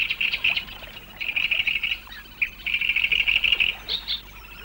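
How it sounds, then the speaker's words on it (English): Great reed warbler singing from a reed song perch at a lake, loud harsh chattering phrases repeated in bursts with short pauses, close and clear. "A great reed warbler again, on a precarious song perch."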